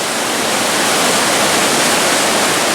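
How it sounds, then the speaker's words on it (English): Rainbow Falls in Gorges State Park roars as a steady, loud wash of falling water, a dense continuous rush with no pauses or voices over it. "this is the waterfall that they kept like bragging about"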